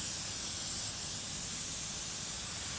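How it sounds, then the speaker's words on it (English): Silicone spray hisses steadily from an aerosol can as it coats a rubber pipe-patch packer, a close continuous spray with no breaks. "just literally get a silicon spray and just coat your packer"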